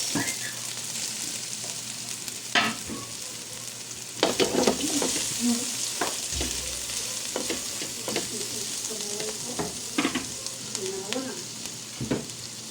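Garlic and onion sauté in a hot pan, a steady loud sizzle with occasional scraping stir strokes throughout.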